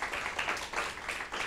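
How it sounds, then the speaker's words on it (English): A short stretch of steady clapping from a small audience at a talk, fairly close and moderately loud, with no one speaking. "shall we give him another round of applause before we say goodbye to him?"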